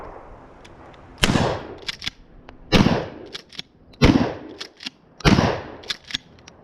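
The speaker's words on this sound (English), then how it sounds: "I'm only shooting Remington number 7 birdshot, because that's kind of the rules here on the range" Mossberg Shockwave shotgun firing Remington number 7 birdshot on a range: four loud, close blasts spaced about a second apart, each followed by a short echo and handling clatter.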